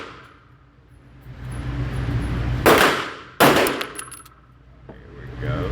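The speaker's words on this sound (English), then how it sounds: "Shooting at the number 2 target." Two sharp, loud shots about a second apart from a Sig P365X pistol with a compensator, fired at a steel target at a shooting range, each crack followed by a brief metallic ring.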